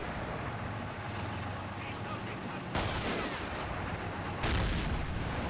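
Tank cannons fire in Combat Mission: Battle for Normandy at Barkmann's Corner: two loud, sharp blasts a couple of seconds apart break over a low, steady engine rumble.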